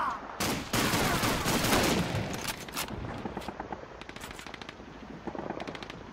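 Rapid automatic gunfire in the World War II shooter Call of Duty 2 on PC, a dense, loud burst of shots followed by scattered sharper single cracks and short volleys.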